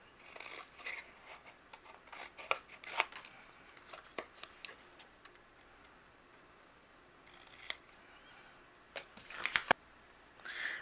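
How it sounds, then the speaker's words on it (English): Scissors snip through cardstock in a series of quiet, scattered cuts, with soft paper rustling in between and a few sharper clusters of snips near the end. "just using my scissors, I'm going to trim the cardstock around it"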